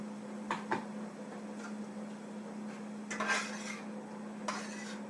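Onions for ratatouille heat in a pan and are stirred. A few sharp utensil scrapes and clinks stand out over a low, steady background sizzle, with no talking.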